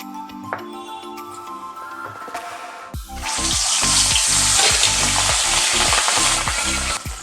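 Large katla fish pieces fry in a little salted oil in a pan. A quieter opening with soft tones gives way to a sudden loud, steady sizzle as the fish is flipped, with a low rhythmic thumping underneath.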